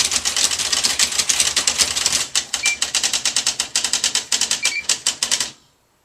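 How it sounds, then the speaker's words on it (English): Rapid, steady clacking of an electronic typewriter striking key after key at a fast rhythm, close by, then stopping abruptly. "So if I can type real fast, I can get ahead of the typewriter."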